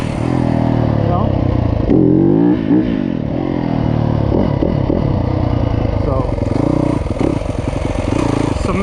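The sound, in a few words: Yamaha YZ250F dirt bike engine revving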